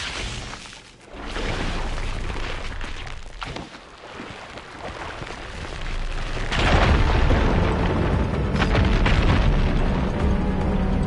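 A fire gleam blowing up rubble in Horizon Forbidden West: a low rumbling lead-in, then a heavy blast midway that swells into a sustained loud roar of crumbling debris, with no talking.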